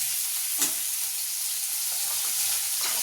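Vegetables frying in fish oil with onions in a pan, stirred with salt and turmeric; a steady broadband sizzle runs throughout, with a few soft scraping stirs, no talking.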